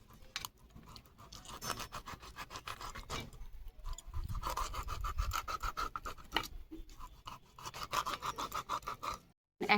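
Knife cutting scoring slits into the sides of a whole fish before frying, giving repeated short scraping and rasping strokes up close, with a brief pause near the end.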